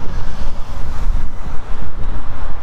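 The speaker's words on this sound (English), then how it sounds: "Yeah, that wind's getting pretty strong." Strong outdoor wind buffets the microphone with loud, gusty, low rumbling that swells and dips continuously throughout.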